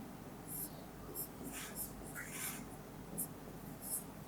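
Chalk or marker strokes on a board during a Class XII physics lesson on magnetism, several short scratchy bursts at an irregular pace, faint against a steady room hiss.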